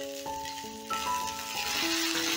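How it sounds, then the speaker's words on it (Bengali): Capsicum, onion and tomato fry in a pan with a soft, steady sizzle under background music, heard over about two seconds. "এবারে এটাকে ভালো করে ভাজা ভাজা করে নিতে হবে।"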